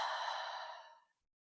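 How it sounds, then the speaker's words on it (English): A single long, deep exhale during a mindful breathing exercise, a close, airy breath that starts strong and gradually fades out over about a second. "see if you can take a deep breath with me."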